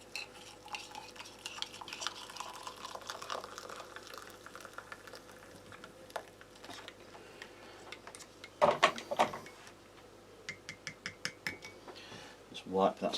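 A metal spoon from an MRE pack stirs drink powder and sugar in water, clinking and scraping against the container under a person's talk, with sharper taps near the end.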